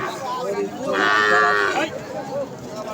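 A single loud, drawn-out moo from a young local bull calf lasting about a second, with a cattle market's background chatter and noise around it.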